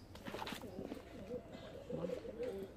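Pigeons in a loft coo softly with low, soft murmurs scattered across a few seconds, close by, with faint background voices mixed in.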